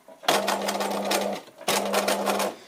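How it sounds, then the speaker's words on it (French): A sewing machine stitches slowly around the rounded edge of a fabric pocket. It runs in two steady, close bursts of rapid mechanical whirring with a short pause between them. "Donc je couds assez lentement pour bien suivre l'arrondi de ma poche."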